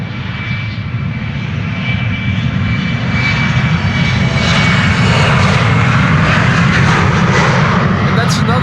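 A KLM Cityhopper airliner taking off from the runway at Amsterdam Schiphol Airport, its engines a loud steady roar that builds gradually as it accelerates, with a person talking over it.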